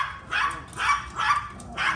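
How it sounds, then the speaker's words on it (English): Small Yorkie dogs bark four times in a steady rhythm at a new pet water fountain, sharp yappy barks close by and fairly loud. "the Yorkies are not used to this water fountain, so that's why they're barking a lot"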